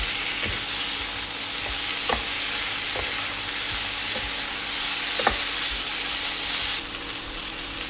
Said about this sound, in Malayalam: അതിലേക്ക് ചിക്കൻ ചേർത്ത് കൊടുക്കാം നന്നായിട്ടൊന്ന് മിക്സ് ചെയ്യണം